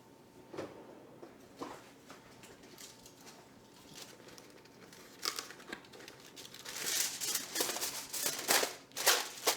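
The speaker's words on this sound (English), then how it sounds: "take strips of aluminum foil and just place it on the edge like that all around the pie" Strips of aluminum foil are handled and torn around the edge of a chicken pot pie, giving soft crinkles and sharp crackling tears that grow busier and louder toward the end.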